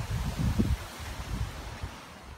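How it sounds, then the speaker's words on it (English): Gusty wind buffets the microphone in low rumbling bursts, strongest at the start and then easing to softer rushes. "Very windy."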